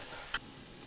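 Carrots and onions cook in a pot with a soft, steady sizzle and hiss, with one brief scrape of stirring partway through, faint and close.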